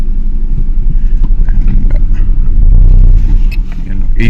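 A Renault Kwid engine idles just after starting, a loud close low rumble with a slightly uneven beat from a misfire linked to low fuel pressure.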